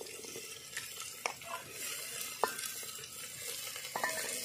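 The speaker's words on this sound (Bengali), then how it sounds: "একই সঙ্গে আমি আলু কুচিগুলো দিয়ে দিচ্ছি।" Chopped potatoes fry in a pan with chana dal while being stirred, making a steady moderate sizzle broken by occasional scraping clinks of the spoon against the pan.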